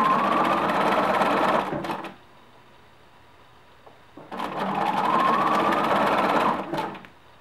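Sewing machine stitching a knit neckband onto a T-shirt: a loud steady whirring run, a pause of about two seconds, then a second equally long run, close up with no talk.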